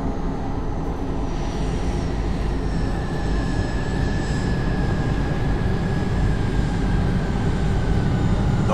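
An airplane flying, heard as a continuous loud engine drone and roar that holds steady with a faint whine, with no one speaking.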